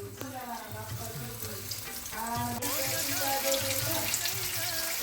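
Bombil fish coated in dry batter sizzles in hot oil in a pan, with steady frying crackle that grows louder as more pieces go in, alongside clinks and stirring; a voice speaks over it.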